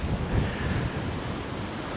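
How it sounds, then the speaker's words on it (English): Ocean waves break over a seawall at high tide on a South Carolina beach, a loud, continuous wash of surf mixed with heavy wind buffeting the microphone, with no voices. "tides are in, breaking over the seawall"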